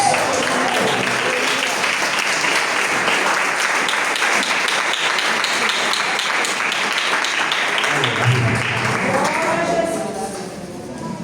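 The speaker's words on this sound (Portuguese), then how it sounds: "Desocupa as suas mãos, aplaude o nome do Senhor Jesus" A church congregation at a youth worship service applauding, a long steady roar of many hands close and loud, easing slightly near the end as voices rise underneath.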